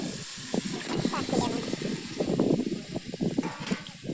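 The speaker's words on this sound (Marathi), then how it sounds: "आता लगेच हे हळद मीठ टाकलेलं कोथिंबीर टाकलेलं मटण टाकून घ्यायचं" Goat mutton mixed with turmeric, salt and coriander goes into a hot pan with a steady sizzling hiss, heard under a person talking over the cooking.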